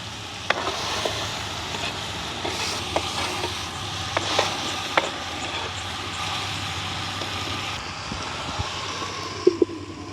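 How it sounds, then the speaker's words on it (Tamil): Pineapple pieces sautéing in hot oil for a village-style pineapple curry, a steady loud sizzle and hiss with occasional spoon scrapes and taps against the pan. "அன்னாசிக்காயும் இதோட சேர்ந்து வதங்க வேணும் எங்களுக்கு."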